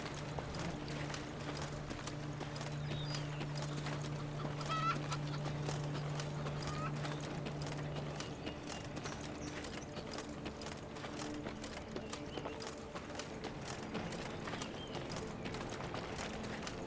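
Horses riding in within the fantasy video game Thronebreaker: The Witcher Tales, steady hoof clip-clop and rattling tack continuing throughout beneath a sustained musical drone, with a possible brief whinny.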